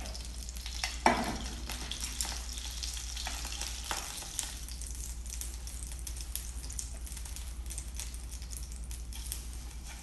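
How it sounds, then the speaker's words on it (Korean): Shiitake mushroom pancakes fry gently in oil over low heat, giving a soft, steady sizzle with a few faint clicks and taps, close and quiet. "표고전이 앞뒤로 이렇게 노릇하게 잘 지져졌습니다."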